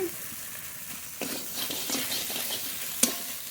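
Taro being stir-fried with spices in a pan: soft continuous sizzle with intermittent scraping and stirring strokes, one brief clink of a utensil near the end.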